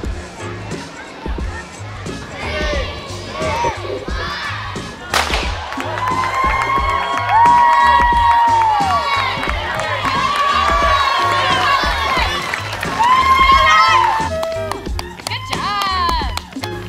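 Spectators cheering and whooping for runners at a hot-weather Bowerman Track Club 5k, loud shouts and calls rising over crowd noise close by, with people talking throughout.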